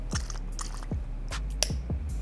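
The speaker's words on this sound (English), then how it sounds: "grab our water and our 4-ounce bottle of solution and squirt 2 squirts" Two or three short wet squirts of shoe cleaning solution from a 4-ounce bottle, close and fairly loud, in a shoe cleaning setup with a Nike Air Max 270 sneaker.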